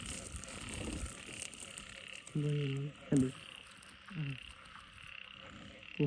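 Frogs croak in a rice field at night after heavy rain, several loud, nearby croaks in short bursts over a steady insect-like hum, with faint talk in the background.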